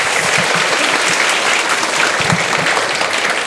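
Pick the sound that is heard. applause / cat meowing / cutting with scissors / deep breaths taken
applause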